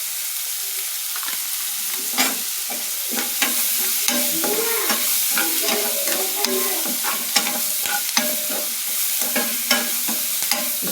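Salt and turmeric seasoning for idli upma frying in a pan and being stirred, with a steady close sizzle broken by repeated spoon scrapes and clinks all the way through.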